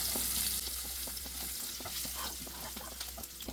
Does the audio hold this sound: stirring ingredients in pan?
yes